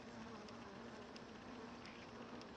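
A continuous insect buzz of bees and hornets at a beehive entrance, hornets hovering in wait outside, a close, steady drone with faint wingbeat pulses throughout.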